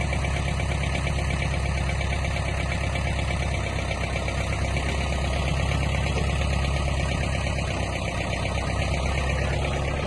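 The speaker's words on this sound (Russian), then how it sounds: "Работа фрезы." A Mitsubishi MT30 30 hp Japanese mini tractor drives an R1908 rotary tiller: a loud, steady engine drone with even mechanical chatter runs unbroken throughout, close by.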